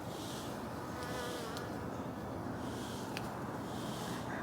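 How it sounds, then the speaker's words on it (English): A bee buzzes steadily close by in a garden of Chinese lantern flowers in Tampa, a continuous insect drone with no talk. "Oh, there's a bee."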